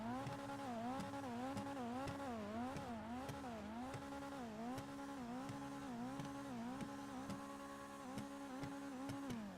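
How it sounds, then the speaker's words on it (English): A Kuruma in the GTA video game revs hard through repeated gear changes, its engine tone climbing and dropping in a steady, rhythmic pattern, loud and close with no talk over it. "you can listen to the gear change real quick while I do them"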